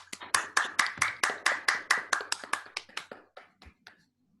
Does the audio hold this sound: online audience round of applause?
yes